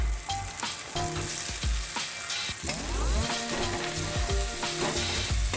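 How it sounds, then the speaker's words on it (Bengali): Fried eggplant and potato added to onions and chilies frying in a pan with turmeric, a loud steady sizzle broken by clattering stirs and scrapes of a spatula throughout, with no talk. "এটাকে এবার আমি ভেজে রাখা বেগুন আলুটা দিয়ে দিচ্ছি।"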